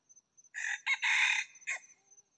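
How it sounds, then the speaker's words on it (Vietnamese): A hybrid jungle fowl rooster crows once at close range, giving a loud, full cock-a-doodle-doo, with a few faint clucks and clicks before and after in an otherwise quiet setting. "Con này y như gà lai nha."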